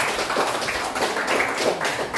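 A classroom of students applauding a group of presenters, a dense, continuous patter of many hands clapping at moderate distance with no voices on top.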